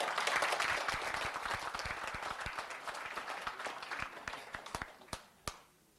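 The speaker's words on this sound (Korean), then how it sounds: "박수로 청해 주시기 바랍니다." Applause from an audience at a 2001 disability human rights award ceremony in Korea, dense at first, then thinning into a few scattered claps before fading out.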